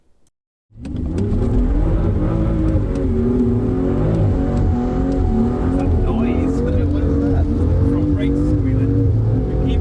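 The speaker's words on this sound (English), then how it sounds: "first things first, you got to warm your tyres up" A car revs hard to warm its tyres on a wet, slippery surface, a loud sustained engine roar after a short quiet start, steady and close throughout.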